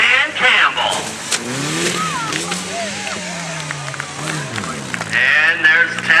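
A 2000 Toyota Echo drives in a rollover competition, its engine revving and whining at close range while an announcer talks over it.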